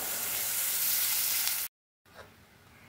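Water poured into hot frying jackfruit for kofta makes a loud, steady broadband sizzle that cuts off abruptly, then a quieter hiss trails on after a short break.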